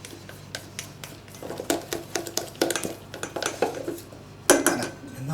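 Melted chocolate stirred hard in a pan, a fast run of close metallic scraping and clinking as the utensil knocks against the sides and bottom, continuing steadily without speech.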